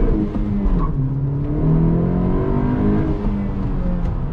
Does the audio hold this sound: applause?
no